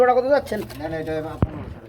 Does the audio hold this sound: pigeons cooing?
yes